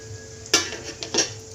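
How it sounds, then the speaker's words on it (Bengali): Bora fritters fry gently in a pan on low heat, a quiet steady sizzle broken by two sharp scraping bursts as the batch is stirred. "তারপরের পোরশন হচ্ছে আমার এই যে ভাজা চলছে, একদম লো হিটে এটাকে ভাজতে হবে"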